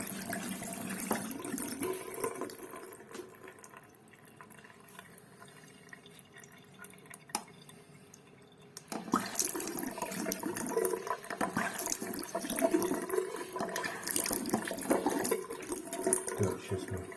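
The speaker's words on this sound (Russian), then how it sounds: "Сейчас открою воду и проверю." Water from a mixer faucet that had been squeaking, quiet at first, then the flow opens up into a steady, louder rush splashing into the sink for the second half.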